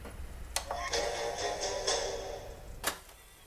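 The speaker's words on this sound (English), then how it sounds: "And that's the sound of the eject." A sustained electronic whoosh-like tone from an Xbox One S disc eject rises and holds for about two seconds, framed by sharp clicks at the start and a louder click near the end.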